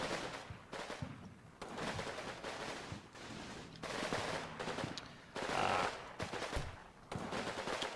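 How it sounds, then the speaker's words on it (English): Gunfire in the World War II strategy game Combat Mission: Market Garden, rattling machine-gun bursts and rifle shots in repeated loud volleys separated by brief lulls, no talk over it. "Now they're under fire."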